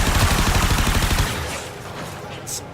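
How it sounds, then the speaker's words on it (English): Vandal Supra firing in Warframe: a rapid, loud stream of projectile shots for over a second, then trailing off into a fading mechanical tail with a faint high whine at the end. "that's pretty good fire rate for the Vandal Supra"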